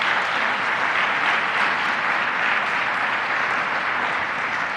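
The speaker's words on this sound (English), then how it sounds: "So let's give them a round of applause." A live audience breaks into a steady round of applause at a Central New York community event about child care investment, the dense clapping sustained and fairly loud throughout with no voices over it.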